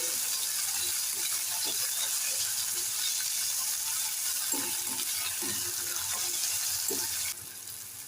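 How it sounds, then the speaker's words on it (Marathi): Finely chopped tomato sautés in a pan for a Goan prawn curry, giving a steady, fairly loud hiss with faint scattered clicks of stirring throughout, the sizzle dropping slightly near the end, with no voices. "आता आपण एक बारीक चिरलेला टोमॅटो घालूया त्याला सुद्धा व्यवस्थित परतून"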